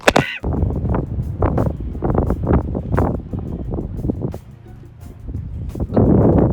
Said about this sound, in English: It is very windy outside